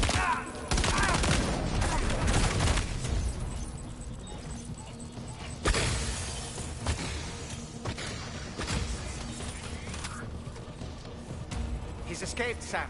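Gunfire in Death Stranding 2 during a firefight, with dense, continuous bursts of shots and heavy impacts rattling through the scene under frequent speech and in-game action noise.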